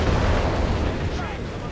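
Dense, sustained battle noise from Company of Heroes 3, a continuous low rumble of gunfire and artillery with machine gun fire mixed in, loud and steady throughout with a faint voice underneath.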